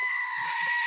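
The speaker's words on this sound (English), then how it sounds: "And we know what goats sound like." A goat bleats in one continuous, loud, strained cry that holds steady for just under a second, with no other sound around it.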